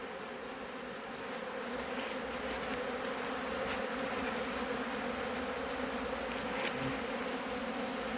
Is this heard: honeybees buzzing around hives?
yes